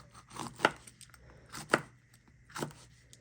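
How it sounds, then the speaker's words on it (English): A knife chops through banana peppers on a board in three distinct, evenly spaced cuts, each a sharp close thud with quiet gaps between. "So I'm just going to keep cutting them up like that until I get them all finished."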